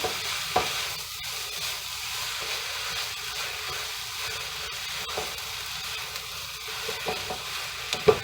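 Onions and sugar frying in a pan while being stirred, a steady close sizzle with occasional scrapes and light clinks from the utensil.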